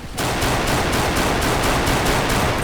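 Rapid, evenly spaced gunshots from a pistol in the Roblox shooter Squid Game 2042, about ten loud cracks in a steady rhythm starting abruptly and filling the short stretch, no speech.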